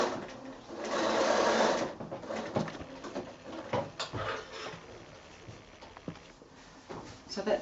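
Sewing machine stitching a child's pillowcase, a close burst of steady running followed by quieter intermittent stitching and handling noises.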